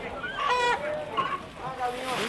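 Chickens at a street market cluck and squawk in repeated close, loud bursts with nasal honking calls, busy and irregular, with a voice talking among them.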